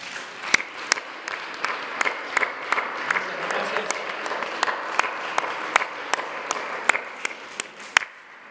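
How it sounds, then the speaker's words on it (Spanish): An audience claps for invited guests at a morning press conference, a sustained round of applause with sharp individual claps standing out throughout. "Les damos un aplauso a nuestros invitados."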